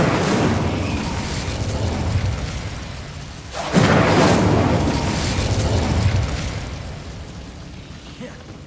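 Incendio fire spell cast in Hogwarts Legacy against Ranrock's loyalists: a rumbling fiery roar builds, then a sharp blast bursts out near the middle and trails off into a long rolling decay.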